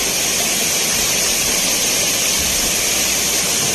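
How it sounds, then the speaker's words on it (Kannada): Floodwater plunges down waterfalls at Tirupati during heavy flooding, a loud, continuous, hissing roar with no breaks and no voices. "ಜಲಪಾತಗಳು ಇಲ್ಲಿ ಧುಮುಕುತ್ತಿವೆ"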